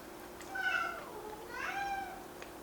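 A kitten meows twice, a rising-falling cry followed after a short pause by a second, similar cry, fairly close over quiet background hum.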